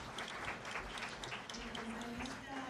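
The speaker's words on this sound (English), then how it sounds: "let us have another round of applause" Audience applause after a panel talk on renewable energy and offshore wind in Hokkaido and Japan, a steady round of clapping held at an even level for the whole stretch, with a faint tone running underneath.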